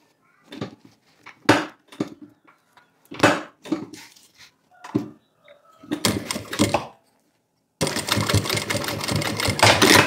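A sewing machine stitching the lining of a necessaire in short separate bursts of rapid mechanical clatter, ending in a longer continuous run, loud and close with quiet gaps between.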